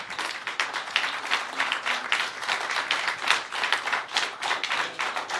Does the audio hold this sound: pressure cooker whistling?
no